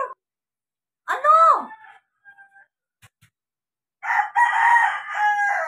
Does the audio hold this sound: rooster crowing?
yes